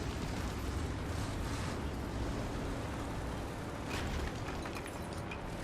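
Distant artillery shelling in the tank game War Thunder, a steady low rumbling roar of battle with a muffled burst near the middle, continuous and without speech.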